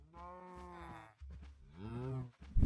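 Cows in Minecraft give two clear drawn-out moos in a row, loud and close, with no voices over them.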